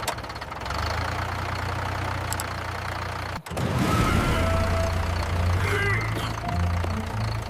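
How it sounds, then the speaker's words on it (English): A tractor engine with a fault runs unevenly, its low rumble continuous and loud apart from a brief dropout midway, with knocking and rattling on top and speech-like sounds around it. "Ah, the old engine trouble again."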